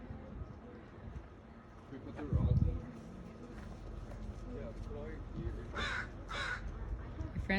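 Crows at the seaside give two or three short harsh caws near the end, while a person talks nearby throughout.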